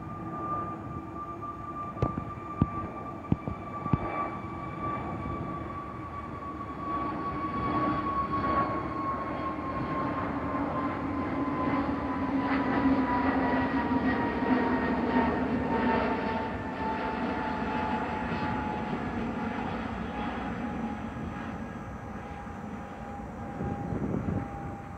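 An airliner taking off at Recife Guararapes International Airport, a steady loud engine roar with a slowly falling whine that swells and holds over the whole stretch, heard from nearby outdoors with a few sharp knocks early on.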